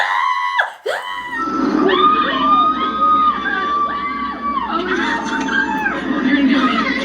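Women cheering and shrieking in excited, overlapping high-pitched calls as a limo arrives at The Bachelor mansion, a dense, sustained crowd of voices with chatter underneath.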